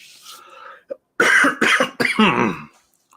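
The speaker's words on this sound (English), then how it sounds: "still got that stupid COVID cough" A person with a lingering COVID cough coughs several times in a row, close and loud, with harsh throat-clearing bursts and brief pauses between them.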